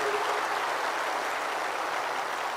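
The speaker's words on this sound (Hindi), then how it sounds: "बहुत जोर से ताली बजाकर इसका स्वागत करिए" A large audience applauds loudly at the 17th Indian Cooperative Congress, with dense, steady clapping that holds at full strength and never drops off.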